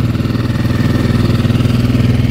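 Inboard engine of a CS 36 Traditional sailboat idling steadily with a slight vibration, a close, loud, even low rumble with a regular throbbing pulse and no voices over it.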